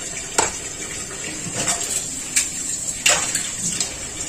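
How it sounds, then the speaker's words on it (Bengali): Potatoes being stirred into a thin fish curry in a pot, giving a few scattered clinks and scrapes of a utensil against the pot over soft wet bubbling. "এবার আমি একটু নাড়াচাড়া করব।"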